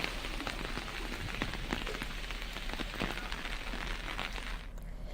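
Heavy monsoon rain during flooding in Narkatiaganj, Bettiah, Bihar, pattering steadily on surfaces with dense scattered drops throughout, alone and fairly faint.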